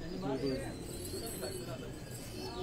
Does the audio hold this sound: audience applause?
no